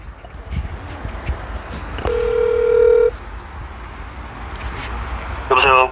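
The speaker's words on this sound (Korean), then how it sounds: "시청 당지실로 전화 좀 넣어주세요." A telephone call being placed to a city hall office: a steady ringback tone sounds for about a second, then another short tone burst follows over low room noise.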